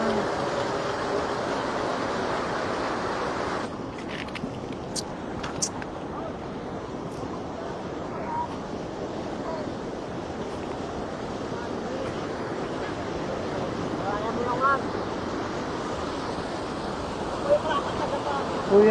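Strong river current rushing in Occidental Mindoro, a steady loud broadband roar of fast water carrying driftwood, continuous throughout with wind buffeting the microphone.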